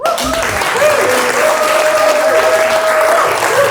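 An audience applauds at a horror short film contest screening and awards party, steady dense clapping throughout with a sustained tonal hum and a voice faintly underneath.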